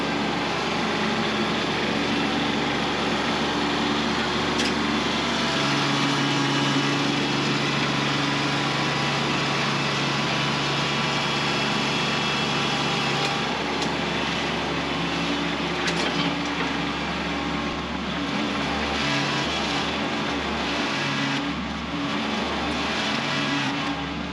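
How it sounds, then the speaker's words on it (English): A Kubota B2601 compact tractor works a Countyline 5-foot box blade over wet, rocky ground, its engine droning steadily and loudly for the whole stretch as it struggles for traction. "the tractor's really struggling to get traction"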